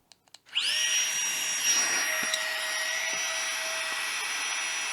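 A GIGA PUMP 2.0 electric portable air pump switches on after a few clicks and runs with a steady high-pitched whine, close by, while inflating a mat.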